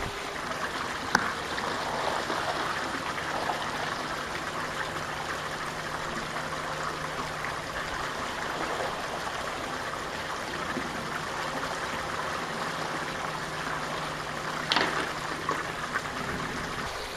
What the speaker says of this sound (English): That was pretty easy. Just pours right in.